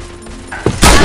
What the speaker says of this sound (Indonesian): Karena aku lagi nembak.